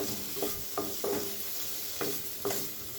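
Cauliflower and potato fry in a pan for an aloo gobi masala curry, a soft continuous sizzle punctuated by about five distinct stirring scrapes at irregular intervals, fairly quiet and close, with no talking.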